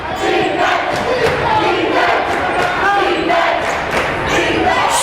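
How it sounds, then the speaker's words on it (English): Lively home crowd at a boys' high school basketball game between Plattsburgh and Peru, a dense continuous roar of cheering and shouting with scattered thuds, steady and loud throughout. "The Hornet crowd is lively."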